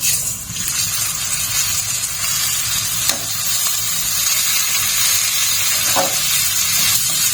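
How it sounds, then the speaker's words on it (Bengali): Rice tossed into hot ghee for shrimp pulao gives a steady, close sizzle and hiss that carries on throughout, with a couple of brief clinks of a utensil against the pan. "ঘিটা একটু গরম হলেই আমি দিয়ে দেবো চালটা"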